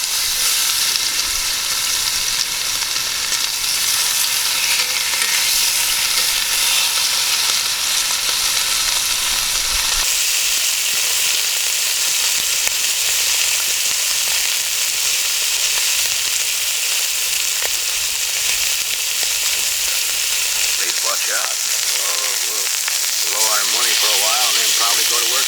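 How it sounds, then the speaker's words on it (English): Pork pieces searing in lard in a 12-inch shallow Dutch oven, a loud, steady, hissing sizzle running throughout, with someone talking over it at times. "Now I'll get the Dutch oven hot and we'll put a sear on the pork"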